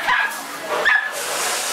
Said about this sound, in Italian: Questi sono tutti cuccioli di Pomerania, importati.